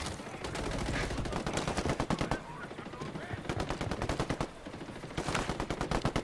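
Automatic gunfire rattles through a Ghost Recon Wildlands firefight in rapid, loud bursts of shots, broken by brief pauses and mixed with occasional voices.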